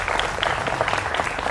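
Steady applause from a studio audience on a Hindi political TV debate show, dense clapping filling the whole moment at an even, moderate loudness with no talk over it.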